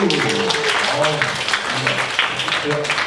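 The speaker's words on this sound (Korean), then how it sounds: "박수." An audience claps at a neighborhood safety council workshop, a brisk patter of hands layered under a person talking close by throughout.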